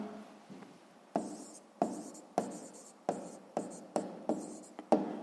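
Pen or marker writing on paper during a sixth-grade maths exercise, heard as a run of short scratchy strokes in a steady rhythm, close and fairly quiet, with no voices.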